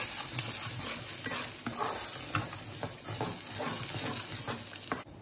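Rice sautés gently in a pan with fat, and a spoon stirs it. A continuous soft sizzle is broken by repeated scraping and tapping strokes, then the sound cuts off abruptly near the end.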